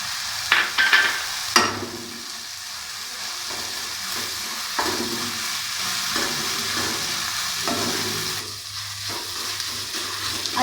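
Chopped onion and ginger sizzle steadily in a hot pan, a continuous close frying hiss broken by a few clinks and stirring scrapes from a utensil, with no voices.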